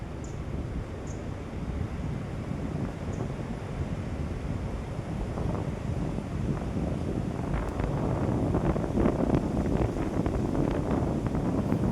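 A cool breeze blows across the microphone outdoors, making a steady, loud rumbling buffet that grows a little stronger toward the end, with no talking.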